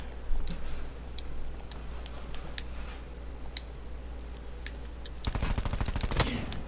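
Call of Duty Black Ops 4 gunfire: scattered distant single shots over a low steady drone, then a close, loud rapid automatic burst near the end lasting about a second.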